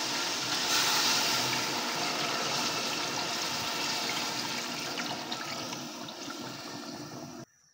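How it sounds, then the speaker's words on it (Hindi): Strained beef stock for a beef and pea pulao pours steadily into a pot, a loud continuous splashing gush that gradually eases over several seconds and then cuts off. "यखनी डालेंगे"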